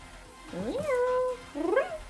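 A person imitates a cat with two drawn-out meows, the first long and sliding, the second shorter and wavering, close and fairly loud.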